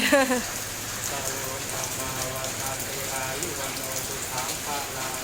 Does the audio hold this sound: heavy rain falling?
yes